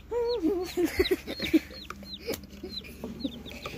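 Young chicks or poultry peep in high, repeated cheeps, with a few nearby clucking calls mixed in, close and fairly steady across the moment with no talking.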